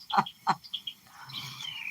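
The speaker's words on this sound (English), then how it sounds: "The bird song that you guys are hearing, I'm sure it's quite loud, especially if you're wearing earbuds, is a mockingbird." A mockingbird sings nearby outdoors with two sharp, loud chirps followed by a softer warbling trill, no voices present.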